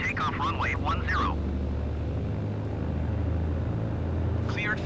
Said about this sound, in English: Cleared for takeoff runway 10.